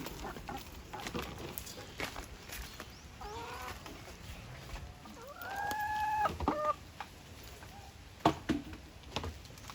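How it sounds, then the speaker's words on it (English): Hens clucking and murmuring at a moderate distance in a Thai tropical garden, with a few sharper squawks toward the end over a steady outdoor background. "Our new and diligent hens have plenty of space where they can run around"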